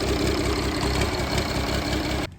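A rebuilt 33-year-old combine harvester engine idles loudly and steadily up close with a rough, even low rumble, then cuts off abruptly near the end.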